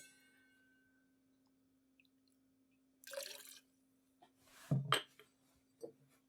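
Tequila poured into a cocktail shaker for a margarita-style drink, a brief splashing pour with a soft glassy clink, fairly faint and close, in a quiet room.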